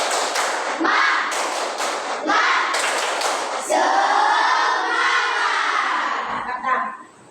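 A classroom of children at a Hindu religious education lesson claps in a rhythmic chant, a series of sharp clap bursts in a steady pattern, followed by a sustained group voice, loud and close.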